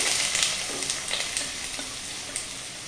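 Onion sautés in hot coconut oil in a kadai, a loud, close crackling sizzle throughout with scattered stirring clicks and no talking.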